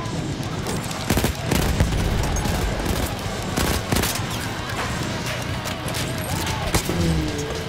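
Battlefield 1 combat with dense overlapping gunfire, rapid automatic bursts and sharp single shots cracking close and loud, scattered booms behind, and a few muffled voices under the shooting.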